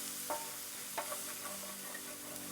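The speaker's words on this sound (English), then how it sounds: "So we're just going to saute this." Onion and garlic sauté over medium heat in a pan, a steady loud sizzle close by with a couple of soft stirring scrapes rising above it.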